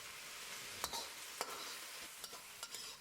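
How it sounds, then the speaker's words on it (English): Chinese broccoli stir-fried with rice wine and salt over high heat in a wok, giving a faint, steady hiss with several quick scraping stirs of a spatula, with no talk. "Then turn back to high heat and quickly stir fry for 30 seconds."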